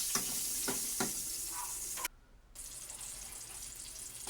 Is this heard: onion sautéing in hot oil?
yes